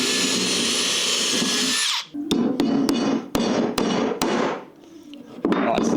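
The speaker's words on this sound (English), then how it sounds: "we sit the router in there, and this can just spin around and hold that router exactly where we need it to get a perfect circle" A router spinning on a pivot nail cuts a circle during an internal house build with curved walls. It screams loud and steady for about two seconds, then cuts out, followed by a run of sharp knocks and taps.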